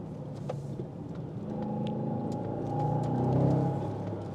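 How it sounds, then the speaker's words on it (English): A Bentley Continental GTC V8 convertible engine gives a deep, steady low rumble from inside the car, swelling gently as it builds under throttle, with no talk. "now that V8's loving it. Sounds well, really sounds well. So deep."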